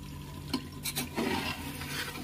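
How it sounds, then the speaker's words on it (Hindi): Korma mixture is stirred in a pan, a few scraping strokes and a brief clatter against the metal over a soft background hiss, close and fairly quiet. "इसको मिक्स कर देते हैं अच्छे से"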